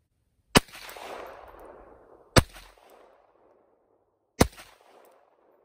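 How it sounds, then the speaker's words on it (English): Three loud, sharp unsuppressed pistol shots ring out, evenly spaced about two seconds apart, each followed by a short echoing decay outdoors. "let's shoot this pistol unsuppressed to get a baseline before we put the K and full configuration suppressor on there"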